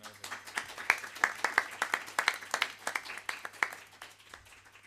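A small conference audience claps for the summit organizers, scattered individual hand claps forming a thin, uneven round of applause that tapers off near the end.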